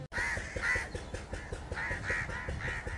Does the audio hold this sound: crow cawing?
yes